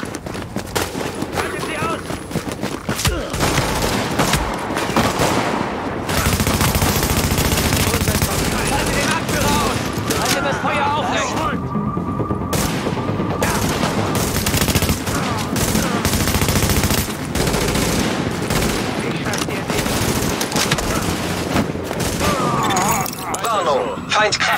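Heavy gunfire erupts around a patrol under attack in The Division, with loud sustained machine-gun bursts and volleys over a long stretch and brief lulls between.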